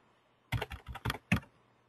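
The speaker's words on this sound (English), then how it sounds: "if I type in Fred here" Four quick, distinct keystrokes on a computer keyboard, close and clear against a quiet background, spaced unevenly as a short word is entered into a form.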